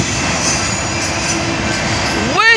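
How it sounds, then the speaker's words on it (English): A train passes close by at a road crossing, giving a loud, steady rumble of wheels on track, with squealing tones rising near the end. "I don't know if you can see it or not because of the train."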